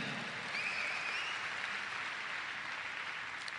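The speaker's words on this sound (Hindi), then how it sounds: "तो उनके लिए हम एक जोरदार ताली बजाएंगे दोस्तों।" Steady, fairly faint applause from a seated audience at a talk by a Surat diamond business couple, an even wash of many hands clapping with no talk over it.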